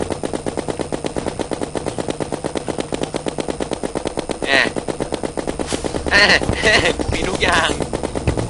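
Rapid machine-gun fire from the game Terraria, a fast steady stream of shots through most of the clip, with louder bursts and a few other effects near the end and voices talking over it.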